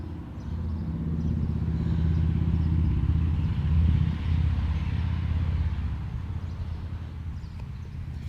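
Motorcycles driving by outside, a muffled engine rumble that swells steadily to a peak midway and then fades slowly, heard from a distance through walls and indoors.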